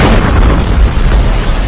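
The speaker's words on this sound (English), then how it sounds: "This guy was shooting a selfie video when a missile struck." A missile strikes in the city of Kharkiv during war, a loud close boom with heavy low rumble and debris crackle sustained for nearly two seconds.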